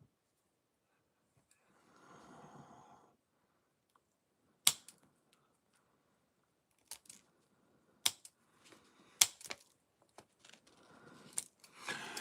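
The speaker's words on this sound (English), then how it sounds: "Sounds like you're cutting claws." Sharp, isolated snips ring out at irregular intervals against quiet, with a soft rustling in between, as scissors clip a cat's claws.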